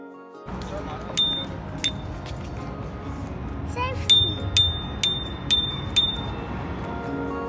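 A bicycle bell rings in bright, clear dings, a few spaced strikes early and then a quicker run of four or five near the end, close and moderately loud over outdoor background noise and a voice.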